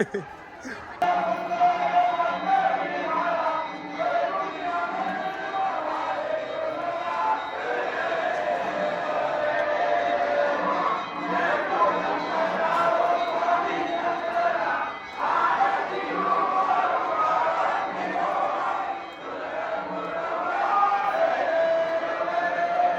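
Big crowd of pilgrims at Jejuri temple, a constant murmur of many voices with chatter and occasional shouts, close and steady throughout, with people talking nearby.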